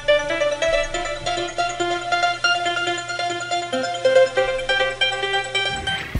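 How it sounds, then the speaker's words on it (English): A synth melody built in FL Studio plays dry, with no reverb: a steady, dense run of bright stacked notes over a constant low drone, fairly loud and without pause for about six seconds, stopping abruptly at the end. "The song I've made sounds like this without reverb."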